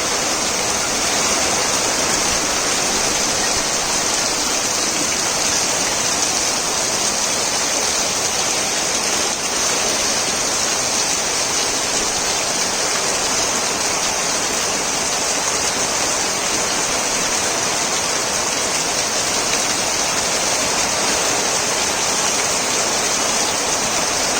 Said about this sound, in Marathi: पाऊस आत्ताच जाण्यापैकी नाही आहे